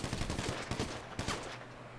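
Gunfire in GTA V during a roleplay jewelry store robbery shootout with police, rapid bursts of faint, distant-sounding shots crackling for about two seconds.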